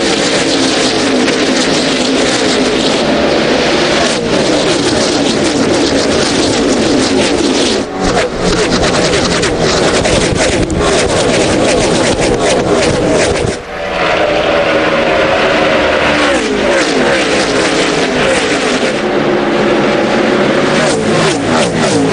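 NASCAR stock cars roaring off at the start of the race at Darlington, a loud, continuous wall of engine noise with overlapping revs and passing cars, sustained with no pauses and barely any talk.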